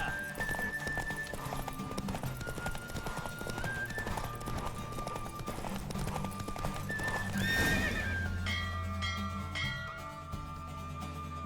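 Roach, a horse in The Witcher 3 video game, galloping during a race with quick repeated hoofbeats under rushing air and music, a loud whinny partway through, then continued clip-clopping.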